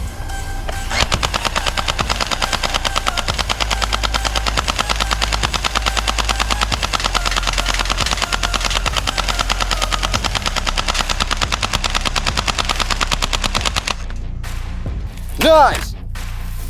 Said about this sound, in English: Oh, good machine gun.